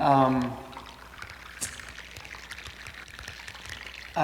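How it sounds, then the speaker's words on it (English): Glacier ice melts in water, releasing a steady crackle of tiny sharp pops and fizzing like frying bacon, with a voice briefly at the start and end. "each of those pops that you hear is a bubble exploding out of the ice into the water"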